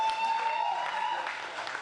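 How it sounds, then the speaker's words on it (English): An audience at a fundraiser claps steadily for a couple of seconds, with a faint tone running underneath the applause. "I want you guys to give yourselves a warm applause, please, because you are all patriots."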